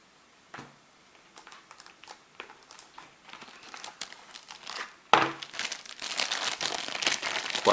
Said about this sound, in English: Now this is an authentic Super Nintendo baggie